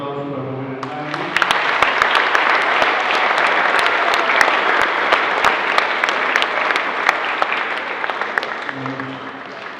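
A congregation at a church service breaks into a sustained round of applause for a few seconds, dense and steady, beginning after a brief spoken line and closing as talk resumes.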